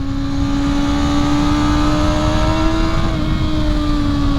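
A 600-class sport bike accelerates hard, its engine note climbing steadily as it pulls through the revs, loud and close throughout with wind roar beneath.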